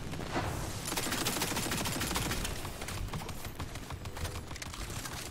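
Constant dense gunfire from a fantasy shooter game, Tiny Tina's Wonderlands, with rapid overlapping shots and loud impacts filling the whole stretch without letup.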